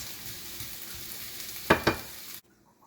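Sweet potato leaves fry in a pan under a soft continuous sizzle, with two quick scraping stir strokes near the end before the sound cuts off abruptly.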